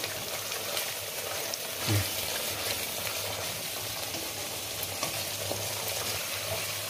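Garam masala and spice paste frying in a pan for a doi fish curry, giving a steady, moderate sizzle with faint stirring scrapes and no voices.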